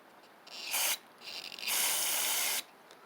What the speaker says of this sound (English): And then spray some carb spray in it.